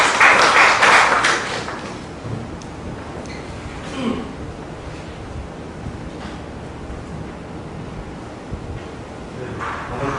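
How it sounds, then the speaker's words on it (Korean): Applause greets a speaker at an online public hearing on the 2035 South Jeolla Province landscape plan: a burst of clapping in the first two seconds, then it quickly fades into quieter room noise. "큰 박수로 환영해 주시기 바랍니다"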